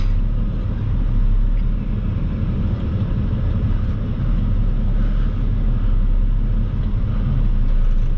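Semi truck backing its rear tires onto a tipper at White Tank Transfer Station, a loud, steady low diesel rumble throughout, heard close from inside the cab.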